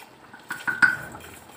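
A metal lid is set back on a pot of khichdi cooking for Makar Sankranti, giving a few short clinks and a brief ringing clatter close by in a quiet kitchen.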